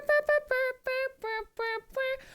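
A tune is whistled melodically, a whistle hook, in about eight clear, near notes with a bouncy rhythm and short gaps, with no talk over it.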